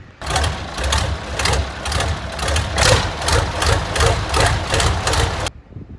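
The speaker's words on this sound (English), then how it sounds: "after a little fumbling around, I got my forklift started." A forklift engine idles just after starting on a freezing farm day, with a steady, close, loud chugging that pulses evenly and then cuts off abruptly near the end.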